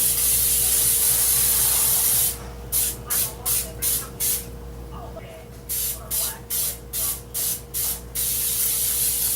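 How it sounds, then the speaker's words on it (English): Cooking spray hisses from an aerosol can onto a cake pop mold, first as one long continuous blast, then in a run of about a dozen short, evenly spaced spurts, ending in a longer spray, all over a steady low hum. "You want to spray this side all on the inside, and you want to spray this side and this side"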